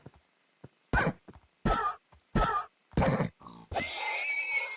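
A pig in the video game Minecraft grunts four times in short, evenly spaced bursts, clear and alone against silence, followed by a longer rasping grunt.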